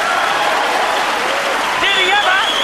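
A dense, steady wave of audience applause fills the hall after a great shot in the 2002 World 9-ball Championship final between a player and Bustamante, and a voice joins in over the clapping toward the end.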